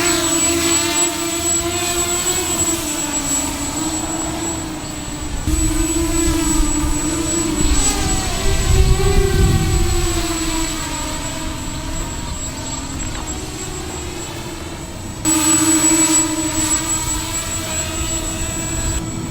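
Walkera Runner 250 quadcopter drone motors whine steadily and close, holding a sustained high electric buzz that surges in pitch and loudness as the throttle changes, with no talk.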